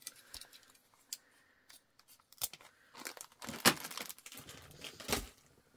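Scissors cut through zipper tape for sewing a clutch bag, a few sharp, close snips and crisp slicing bursts separated by quiet pauses.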